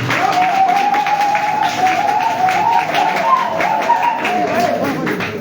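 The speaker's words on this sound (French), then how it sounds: "qu'on peut applaudir une fois de plus, s'il vous plaît" Audience applause fills a press conference room, a steady sustained wash of clapping held at even loudness throughout, with a sustained tone or voice running beneath it.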